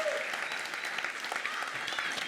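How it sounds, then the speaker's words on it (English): An audience at a panel discussion applauding, a steady wash of clapping from a crowd that continues throughout. "would you give a round of applause to our panel today?"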